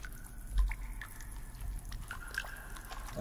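Water drips in a dark cave in the video game The Forest, a few faint, sparse plinks at uneven intervals over a low, hollow ambient rumble.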